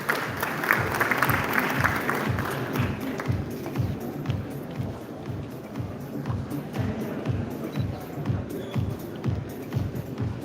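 An audience applauds the Speaker of the Maharashtra Legislative Assembly at a formal gathering, rhythmic, fairly even clapping that stays moderately loud at first and then gradually grows softer and sparser.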